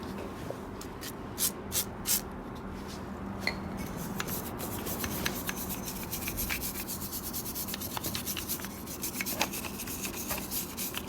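Towels rubbing salt-like corrosion off an engine part on a dual-engine Integra, a steady close scrubbing and scraping texture with a few sharp clicks and clinks, no talk.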